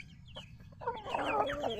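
Hens cluck in a short burst of clucks and murmurs, close by, with a steady low background hum beneath.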